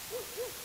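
Two soft owl hoots spaced evenly apart in the distance, faint over a quiet, hissy background with no one talking.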